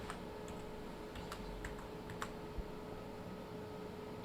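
Faint, sparse keystrokes on a computer keyboard while entering text in a Microsoft Excel spreadsheet, a few scattered clicks over a quiet steady background hum.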